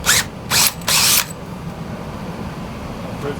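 A power drill bores into a 90% efficiency American Standard furnace for a combustion analysis. It whirs in three short, loud bursts at the start, then falls silent against a low room hum.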